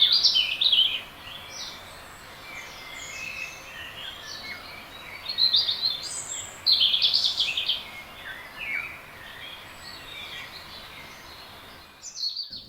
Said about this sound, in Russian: В фильме вы слышите звуки природы нашего леса.